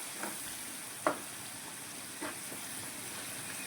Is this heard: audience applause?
no